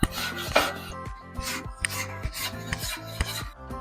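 A grill brush scraping the grate of a Weber Q, close and loud, in a rapid series of rough back-and-forth rasping strokes with no speech.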